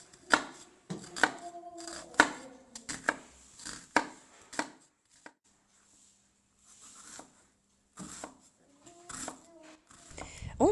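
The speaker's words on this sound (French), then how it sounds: "je vais l'éplucher et le couper en petits morceaux" A knife chops an onion into small pieces on a cutting board in a home kitchen, giving bursts of sharp, close taps that pause briefly between runs.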